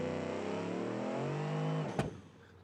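A video game car revs hard against a two-step launch limiter, the engine note holding steady and loud before a sharp crack at launch, then the sound drops away as it pulls off.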